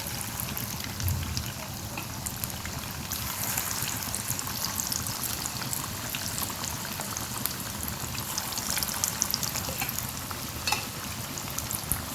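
Chicken sizzles and crackles in hot oil in a home kitchen in Goa, a steady dense frying hiss running loud and close throughout with occasional stirring, no voices.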